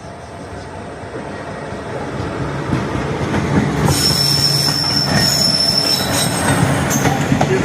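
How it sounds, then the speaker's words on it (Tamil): A passenger office train from Mayiladuthurai to Thanjavur rumbles steadily along the rails on a foggy day, its wheels squealing in a high, sustained whine as it grows louder and closer. "மயிலாடுதுறையிலிருந்து தஞ்சை போகின்ற அலுவலக ட்ரெயின், ஆஃபீஸ் ட்ரெயின்னு சொல்லுவாங்க"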